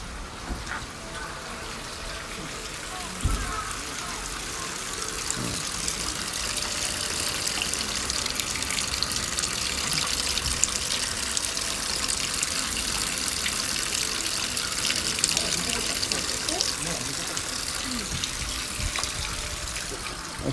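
Water runs steadily at a Japanese shrine purification basin in Tokyo, a continuous close splashing and gushing stream, with faint voices in the background.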